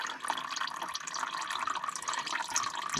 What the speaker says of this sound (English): Let's let the oil drain.